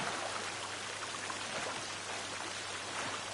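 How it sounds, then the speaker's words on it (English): A waterfall in a forest survival video game gives a steady, even rush of falling water that runs throughout, broadband and constant, with no talk. "Hey, waterfall."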